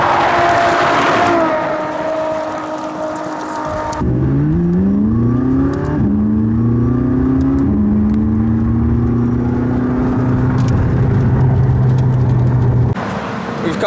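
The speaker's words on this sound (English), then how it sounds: "I'm with Seb to see some of the cars coming past" Race cars speed past at the Monza racetrack, loud engines sweeping down in pitch as several cars pass one after another close by.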